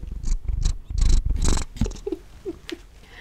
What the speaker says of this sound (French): tu veux ronronner?